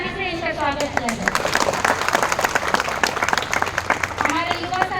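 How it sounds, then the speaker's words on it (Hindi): Loud applause from a crowd at a tribal panchayat gathering welcoming an MLA, dense clapping sustained throughout with voices mixed in the crowd noise. "और एक बार जोरदार ताली से इनका स्वागत किया जाए।"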